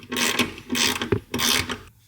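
A ratchet with a 5 mm socket loosening the power running board motor bolts on a 2017 GMC Yukon Denali, three close rasping bursts of rapid clicks separated by brief pauses.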